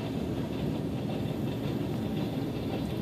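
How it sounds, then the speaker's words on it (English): A train passing by near a feed supply store, heard as a steady, continuous rumble with a faint rhythmic clatter that holds at an even loudness throughout, with no talking. "there's a train going by"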